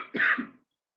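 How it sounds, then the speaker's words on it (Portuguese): A single short, harsh cough burst, close and fairly loud, fading out quickly into silence. "eu peço desculpas que eu estou tossindo um pouquinho"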